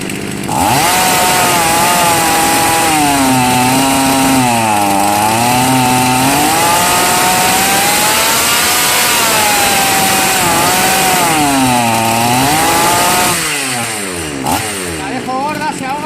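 A chainsaw engine runs continuously and loud during carburetor adjustment of the L and H screws, its pitch rising and falling as the revs climb and sag, with someone talking over it.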